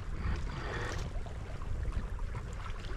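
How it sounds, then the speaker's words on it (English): A motor-sailing boat's engine runs steadily out on the open sea between Falmouth and Mousehole, a continuous low rumble blended with wind and water noise throughout. "he's motor sailing. I can hear his engine running."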